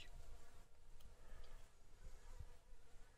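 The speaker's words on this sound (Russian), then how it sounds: "Пчелки тут жужжат." Honey bees buzz around an English apiary during honey extraction, a steady faint drone of insect wings filling the whole stretch at low level, with no voices.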